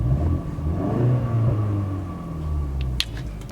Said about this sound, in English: this sport mode also deepens the exhaust, so you probably can hear it a little bit with this